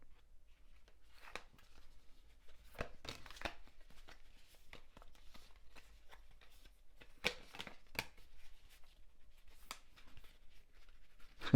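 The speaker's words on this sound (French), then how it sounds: "Alors, on va prendre 5 cartes du tarot ici." Tarot cards are handled and shuffled close by in a quiet room. Faint papery slides and sharper flicks come in irregular bursts, a few of them crisper and louder, with no voice.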